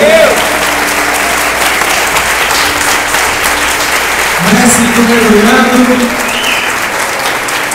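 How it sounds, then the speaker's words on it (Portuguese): A church congregation applauds loudly and continuously while a voice speaks over the clapping, with tonal sounds weaving through the background. "Aplauda o Senhor pela vida dele."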